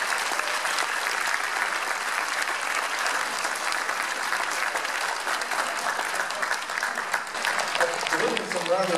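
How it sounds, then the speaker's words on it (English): A large audience gives a sustained round of applause for public servants, dense loud clapping that holds steady throughout with crowd noise mixed in. "how about a nice big round of applause for these public servants"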